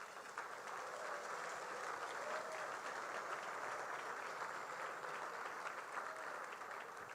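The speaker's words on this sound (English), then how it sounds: "Let's give them all a round of applause." A breakfast-meeting audience applauds a group of honorees, a steady, even patter of many hands heard from a distance at moderate volume for several seconds, without any voices over it.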